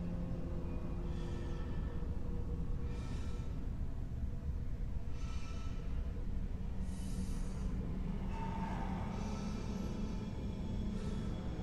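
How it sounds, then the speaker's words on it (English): A tram pulls into a station in the Dead Space Remake game, a continuous heavy rolling rumble with periodic hissing bursts, fairly faint and with no talking over it. "Now arriving at flight deck tram control."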